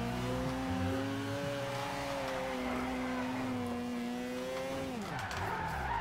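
A Mazda RX7 drifting in the video game Forza Horizon 2, a loud continuous engine drone with tire squeal that holds steady, then drops sharply as the revs fall near the end.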